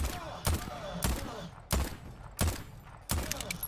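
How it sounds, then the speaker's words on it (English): Gunfire in the video game Voidtrain, five evenly spaced sharp shots about every 0.65 seconds over a busy game background with some speech. "Who's shooting at me?"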